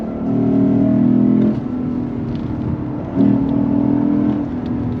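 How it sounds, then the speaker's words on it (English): A 2024 Lexus IS 500 F engine roars steadily with a loud, smooth tone, rising in two sharp rev blips as the paddle downshifts hit, close up and with no talking. "The sound though, the sound. Downshifts are superb."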